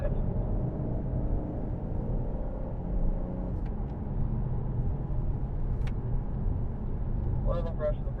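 A BMW M4 laps a race track, its engine and tyre rumble droning steadily and loudly throughout from inside the car, with a few brief high tones near the end.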